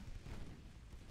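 Naval guns boom in a continuous low rumble of heavy fire from warships in the Ultimate Admiral: Dreadnoughts game, a dense, muffled barrage with no distinct gaps and no voices.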